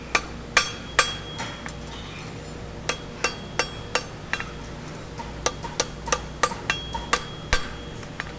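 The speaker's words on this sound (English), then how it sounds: "See how I'm hammering at an angle?" A blacksmith's hammer strikes a horseshoe at an angle to cup it, giving sharp metallic clinks in an irregular run of single blows and quick pairs, fairly close, with quiet shop ambience between hits.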